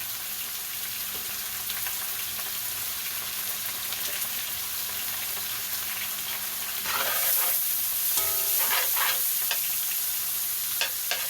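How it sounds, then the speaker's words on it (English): Onions, cilantro, garlic and thyme sizzle steadily in a hot skillet, a constant crackling hiss that grows a bit louder with a few clinks of stirring. "Turn around and keep it frying nice and even."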